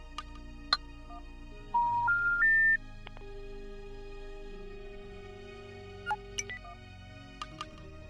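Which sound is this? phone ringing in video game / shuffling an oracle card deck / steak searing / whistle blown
phone ringing in video game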